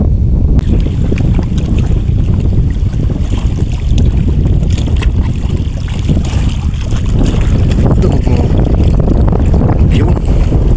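Steady broadband wind roars across open water during a tilapia and carp fishing outing, continuous and close with buffeting gusts against the microphone and no talking.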